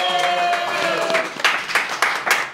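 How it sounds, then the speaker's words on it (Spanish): Audience applause at a Spanish-language comedy show, breaking out as broad clapping bursts after a few brief tonal sounds fade, loud and close and continuing to the end. "¡Aplausos a Conan!"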